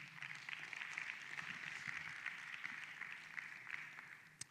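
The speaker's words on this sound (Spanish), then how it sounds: "Dale un fuerte aplauso al Señor." A church congregation gives a sustained round of applause during a sermon, a faint, even wash of many hands clapping that continues steadily for several seconds, heard from a distance without speech.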